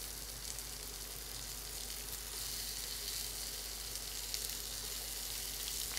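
Onion petals frying in a pan with chopped ginger, garlic and green chili for a soybean salad, a soft even sizzle held close and steady throughout, no talking.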